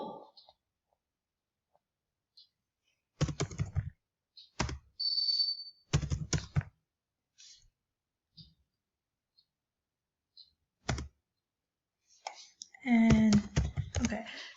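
Numbers typed on a computer keyboard, sharp clicking keystrokes in short bursts separated by pauses, close and clear, with a voice speaking briefly near the end.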